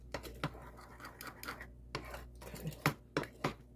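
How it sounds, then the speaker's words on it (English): A spoon stirs banana waffle batter with butter in a bowl, giving close, quiet scraping and tapping strokes in an irregular rhythm with a few sharper knocks against the bowl. "we're going to go ahead and get this stirred all up"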